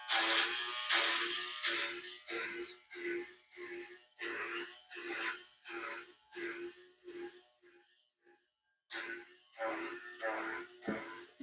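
A Powertec TR-250 electric beard trimmer cutting foamy stubble, with a steady series of short buzzing passes, close and rhythmic, each stroke about half a second, alone with no talking.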